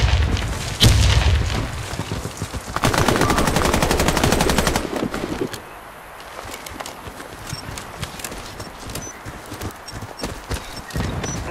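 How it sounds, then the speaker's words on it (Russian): A grenade thrown and exploding in the Warface video game, with a loud boom among dense bursts of automatic gunfire and rapid clattering shots, all close and loud. "Кидаю гранату! Ловите! Граната!"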